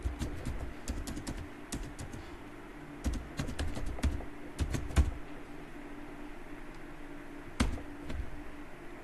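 Keys on a computer keyboard clatter as a number is typed in, with short bursts of crisp close taps separated by pauses and faint background ambience.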